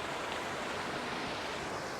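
Constant, faint rush of river water flowing beside an overgrown waterfall path, a steady broadband wash with no breaks or voices.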